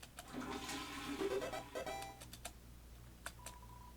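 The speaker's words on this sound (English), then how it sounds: "Toilet flush it? Yes." A toilet in the Deltarune video game flushes with a gurgling rush of water, then the sound trails off into a few light clicks.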